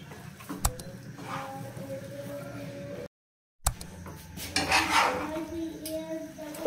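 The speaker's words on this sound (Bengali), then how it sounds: "ঘিটা আমি খুন্তি দিয়ে ভালো করে নেড়ে নিয়েছি।" A spatula stirs ghee in a pan for a chana dal halwa, giving light metallic scrapes and clinks over a low hum, with a brief dropout midway and busier scraping afterward.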